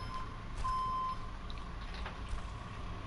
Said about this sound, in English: Who came up with the idea of making that horrible noise, on the back of lorries?